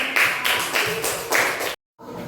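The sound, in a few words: classroom applause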